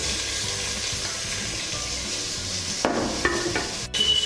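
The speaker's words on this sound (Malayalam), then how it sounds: "ആവശ്യത്തിന് ഉപ്പും കൂടെ ചേർത്തിട്ട് നന്നായിട്ടൊന്ന് വഴറ്റിയെടുക്കാം" About twenty finely chopped small shallots sauté with salt in a hot pan for a Kerala Kuttanadan duck roast: a steady close sizzle, with scraping, clattering stirring strokes near the end and no talk.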